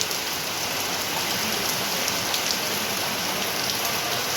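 Heavy, steady rain pours down at a village home, a dense unbroken hiss of drops on surfaces with no pauses and no voices.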